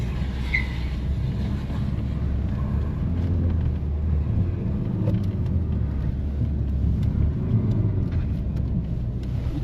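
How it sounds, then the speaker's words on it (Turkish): A car sliding sideways with the handbrake pulled while moving on a slippery surface, throttle held on, giving a steady loud low engine rumble and tyre noise throughout with no talk. "Tam yürürken el freni asılıyoruz."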